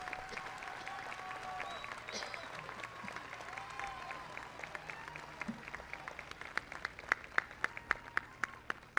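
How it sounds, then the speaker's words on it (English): Graduation audience at a Santa Monica College commencement applauds, a steady wash of clapping throughout with sharper individual claps growing more distinct toward the end. "join me in giving a round of applause to this"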